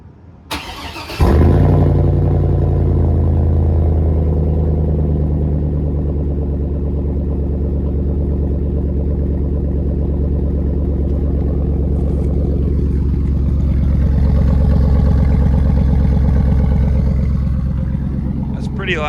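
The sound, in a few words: Chevy Avalanche engine with new custom exhaust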